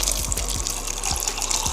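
Water pours steadily into a container over beans set to soak, a continuous close splashing stream with soft low thuds from the vessel throughout.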